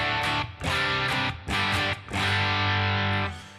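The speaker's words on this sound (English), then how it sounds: "those are all sounds from a Princeton Reverb and the Glorious Drive, which is based off of the Morning Glory by JHS" Distorted electric guitar chords played through a Fender Princeton Reverb amp and a Glorious Drive overdrive pedal modeled on the JHS Morning Glory, with Fishman Fluence pickups; loud, close strummed phrases with brief gaps, ending in a sustained ringing chord.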